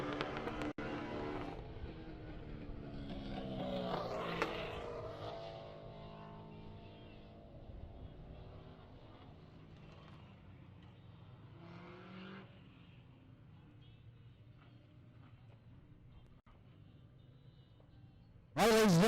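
A refired race car engine drones steadily from a distance during a Baby Grand feature race at Alaska Raceway Park, rising briefly around the middle before settling, with a sharp loud burst right at the end.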